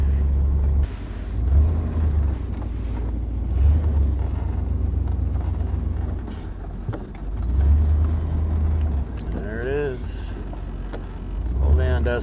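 A camping vehicle drives off-road, its engine rumbling low and steady with bumps and surges, while a voice speaks briefly near the end.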